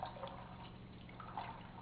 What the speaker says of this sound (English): now I'm going to add 1 cup of water because we want these kidney beans to simmer in this spice mixture